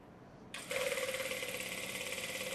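A sewing machine starts up and stitches an edge seam on cloth, settling into a fast, even, close mechanical whirring with a rapid rhythmic clatter, alone without talk.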